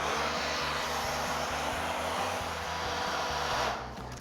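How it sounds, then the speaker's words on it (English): A blow dryer warms leather boots before oiling, a steady, close whooshing roar with a low motor hum beneath, continuous and unbroken with no voices. "Warm up the leather with a blow dryer."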